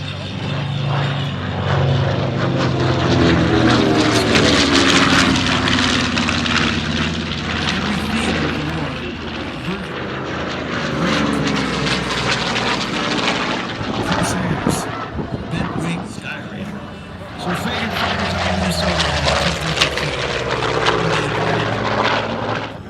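A World War II propeller-driven bomber passes overhead at an aviation show, a loud continuous droning engine roar that swells and shifts over about twenty seconds.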